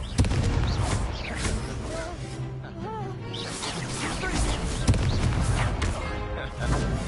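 Busy spell combat in Hogwarts Legacy on PS5, with Confringo blasts and other impacts thudding repeatedly over a dense rumbling game mix, some voices and music weaving through.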